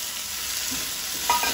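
Soaked dried prawns go into a pan of frying onion for a Goan dry-prawn kismoor, giving a steady close sizzle and hiss with a few soft stirring scrapes near the end.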